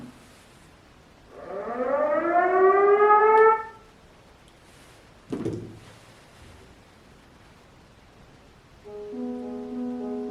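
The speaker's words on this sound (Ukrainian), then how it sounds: "увага, повітряна тривога. Пройдіть найближче укриття." Civil defense air raid siren in Ukraine, a rising wail that holds loud for a couple of seconds then falls away, followed by a short thump and a steady tonal alarm drone near the end.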